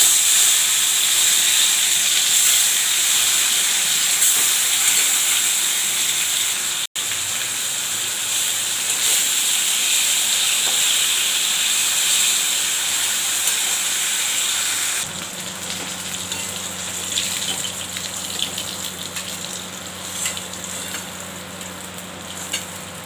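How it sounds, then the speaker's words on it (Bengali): Fish coated in a paste of garlic, ginger, cumin and chilli fries in hot oil, giving a continuous loud sizzling hiss throughout, quieter and rougher in the later part. "মশলা দিয়ে মাছ ভাজা হয়ে"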